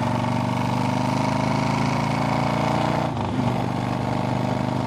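A motorcycle engine idles steadily close by, a continuous low rumble with a brief dip near the end, heard alone without talk.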